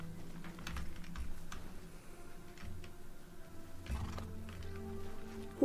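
A horse neighs and snorts over clip-clopping hooves in the video game Rust, mixed with quick keyboard tapping, all at fairly low volume.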